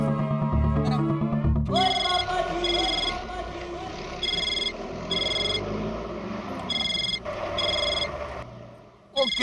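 A telephone rings in repeated double bursts in a crowded room during a TV comedy, sounding under people talking and ambient noise.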